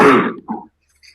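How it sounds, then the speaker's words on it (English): A single harsh cough up close, followed by a short throaty grunt, then silence. "I'm coughing."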